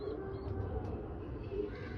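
Pigeons coo low and steady at close range, a continuous murmur running through the two seconds, with faint chirps from other birds in the background.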